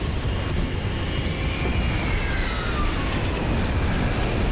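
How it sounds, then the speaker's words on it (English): A plane roars with a steady, loud engine drone in a Max Payne 3 airport scene, and a faint siren-like whine rises under the rumble. "The other plane!"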